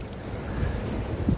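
Wind buffeting the microphone over surf on a sea shore at Sarangani Bay, Mindanao, with low rumbling waves and a boat nearby, brief and moderately loud.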